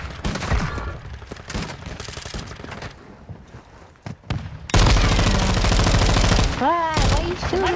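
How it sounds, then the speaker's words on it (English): Rapid bursts of automatic gunfire in an online battle-royale shooter game, loud and dense with overlapping shots, followed by a sharp swell of louder firing and explosive effects, with brief voice chatter mixed in. "So this team is shooting at the hill behind you."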